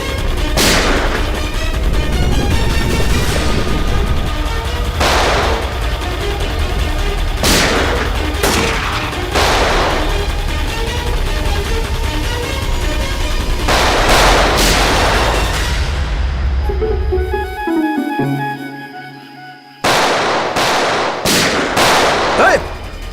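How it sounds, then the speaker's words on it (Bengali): Gunfire in a CID TV crime drama episode: loud, rapid bursts of shots crack over a dense, noisy backdrop, then a brief drop to near silence before more sharp blasts. "ব্যাস, অনেক চালিয়েছিস গুলি,"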